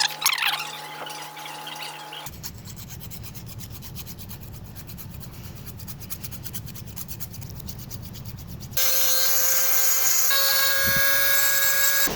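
A 3D-printed lost-wax cast gold ring being polished, first a faint scraping, then a sustained buzzing rub of a rotary tool against the metal, ending in a louder, higher-pitched whine.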